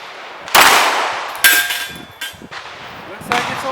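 Sharp, close gunshots from a Glock 19 Gen5 MOS pistol fitted with a Holosun 507C sight, four loud cracks spaced unevenly over a few seconds, each with a short echoing tail.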